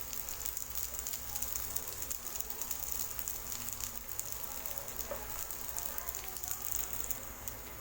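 Potato balls fry in a little oil in a pan, giving a steady, soft sizzle and faint crackle throughout while a voice comes and goes over it.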